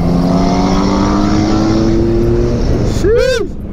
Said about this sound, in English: The engine on this is definitely more buzzy.